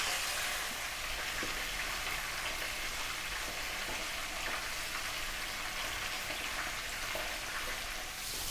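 Whole tilapia frying in a pan of hot oil, a dense continuous sizzle and crackle that holds steady throughout, close and with no voices.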